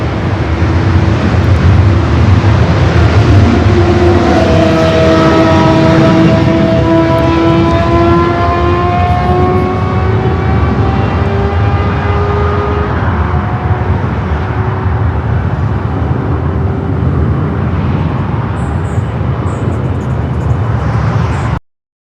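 A jet aircraft at LAX roars loudly close by, its whining engine tones sliding downward in pitch over several seconds as a Lufthansa jet pushes back, followed by a steady broad rumble.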